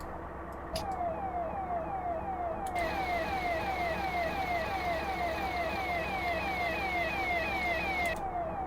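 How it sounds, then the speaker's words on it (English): The warning siren of a DR73106 ballast tamper in Train Simulator 2021 wails in a loud, continuous warbling loop that repeats at an even pace over a low engine rumble. "Now I'm going to put the warning siren on."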